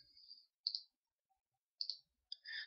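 Sharp, isolated computer mouse clicks in a quiet room, three or four short taps spaced irregularly, crisp and close.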